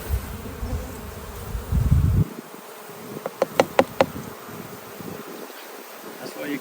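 Bees buzz and fan at a hive, a steady close hum with a cluster of sharp ticking knocks in the middle, over a rustling outdoor background.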